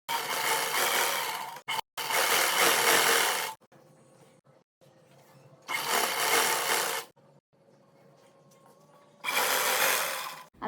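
A sewing machine stitches fabric over elastic in three loud bursts of running stitches, with quieter pauses between them and a faint hum and rustle of cloth handling.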